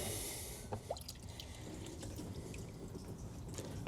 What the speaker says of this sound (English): that's really quick drainage